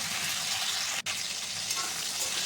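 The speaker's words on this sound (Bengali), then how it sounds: "দিয়ে আমি আরও একটু ভালো করে ভেজে নিচ্ছি।" Cauliflower florets and potato pieces fry steadily in hot oil, a loud, continuous sizzle with a brief dip partway through, and no talking.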